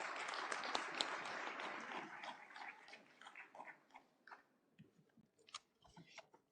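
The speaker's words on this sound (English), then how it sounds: "Please welcome him with big round of applause" Applause at an annual function welcoming CA Dr. Girish Ahuja, a faint, distant wash of clapping that thins into scattered individual claps before dying away.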